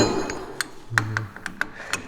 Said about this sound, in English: we'll install the hole saw